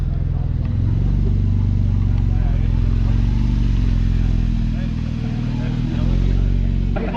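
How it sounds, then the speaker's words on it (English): A matte black Porsche GT3 rolls into a pop-up car meet, its engine a loud, steady low rumble close by with talk over it. "And the Porsche GT3 coming in."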